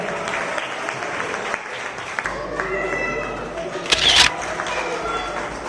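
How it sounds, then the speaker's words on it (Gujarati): Applause from an audience at a Dhobi community prize distribution ceremony: a moderate spell of steady clapping that swells near the end, with camera clicks and a crowd murmuring in the background. "જોરદાર તાળીઓથી તેમને વધારો"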